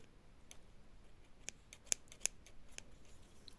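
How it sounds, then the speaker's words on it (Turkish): Scissors snipping dead orchid leaves at the base, a handful of sharp, close clicks spaced irregularly over a quiet background. "Makası da zor kesti."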